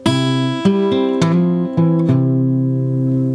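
Acoustic guitar strumming and letting chords ring for section four of a song, loud and close with crisp strum attacks every half second or so over sustained, resonant open strings.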